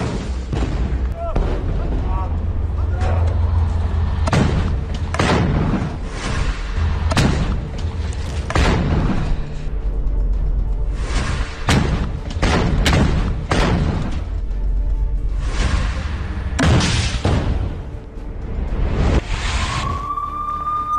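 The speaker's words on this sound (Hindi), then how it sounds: "हमास ने टैंकों में धमाके का वीडियो जारी किया है" Explosions strike tanks in war footage: a rapid series of loud, booming blasts and bursts, some close together, breaking over a constant rumbling background.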